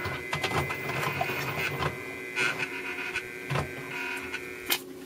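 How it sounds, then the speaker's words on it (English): A printer whirs and clicks as its mechanism runs, with mechanical hum and a few sharper clunks, close by. "Printer woke up"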